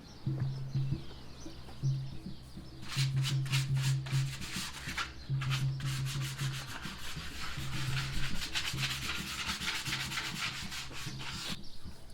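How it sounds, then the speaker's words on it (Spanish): Brush spreading varnish over a wooden candombe drum, a continuous soft rubbing and scraping with rhythmic strokes, birds chirping in the background, no talking. "Para pintar el tambor de candombe, uso barniz y le doy entre 3 y 4 manos."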